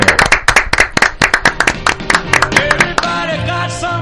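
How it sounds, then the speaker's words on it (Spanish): Warm applause in a radio studio for a guest, with sharp clapping close up, then music swelling in beneath it as the clapping thins out toward the end. "Así que recibe este caluroso y afectuoso aplauso"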